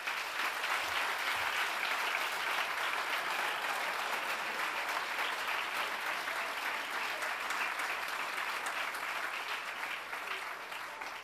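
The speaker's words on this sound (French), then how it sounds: "je vous demande d'applaudir vos parents" Graduation audience applauding the parents, a dense, even clapping that stays sustained and moderately distant throughout, with no break.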